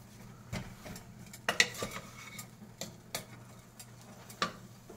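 A spoon stirs ginger and spices in a pot for khichdi, giving soft scraping under faint background noise, broken by a few sharp clinks and taps against the metal at irregular intervals.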